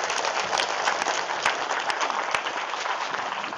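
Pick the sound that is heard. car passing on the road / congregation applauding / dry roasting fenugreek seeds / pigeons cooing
congregation applauding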